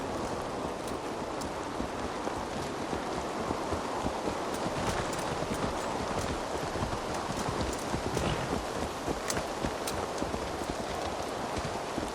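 Horse hooves clip-clop steadily in the Assassin's Creed Valhalla video game, a continuous rhythmic trot with faint wind or rain-like noise in the background and no talking.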